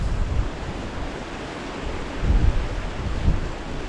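Wind gusting around an exposed winter wild camp beside a waterfall in the Northumberland hills, rumbling buffets against the microphone that swell and fade in uneven surges.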